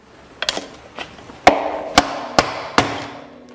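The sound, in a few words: flat screwdriver tapped against metal edges of a ball bearing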